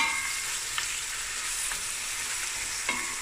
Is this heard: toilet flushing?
no